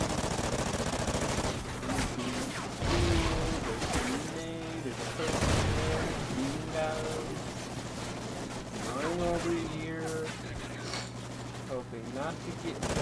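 Repeated gunfire in the video game Call of Duty Ghosts, loud bursts and volleys running under frequent excited talk from a player, with short breaks between exchanges.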